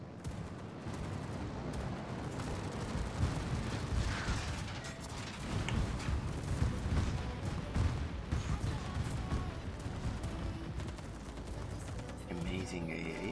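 Anti-aircraft guns on a warship in World of Warships firing continuously, a dense, steady clatter of rapid pops and mechanical rattling that holds at moderate loudness throughout without a break.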